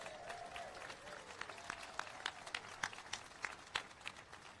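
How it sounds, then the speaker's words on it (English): A crowd at an outdoor tailgate-style mural celebration in Milwaukee claps for the Uecker family, with sparse, scattered claps of moderate distance over a quiet background and a voice briefly at the start. "Please give them another round of applause."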